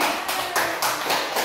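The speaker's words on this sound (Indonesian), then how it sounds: "Tepuk tangan semuanya" Primary school class clapping together, a brief dense burst of many hands in rough rhythmic pulses, fairly close and loud, with no talk.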